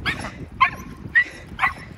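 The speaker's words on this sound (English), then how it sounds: "Do you hear this dog?" An excited dog yips and barks in quick repeated bursts, close and loud over breezy outdoor wind noise.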